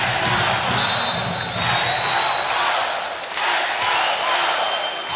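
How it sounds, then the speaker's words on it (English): A college volleyball arena crowd cheers and shouts to rally the Hawaii Warrior men's team against Long Beach State, a sustained wash of voices and whistles that swells and dips, loud and close throughout. "Crowd trying to get Hawaii revved up here."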